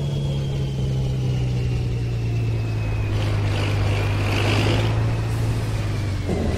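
A heavy truck in the Cargo truck simulator game drones steadily under load, its engine hum joined by a rising turbo whistle, continuous and fairly loud with no talk.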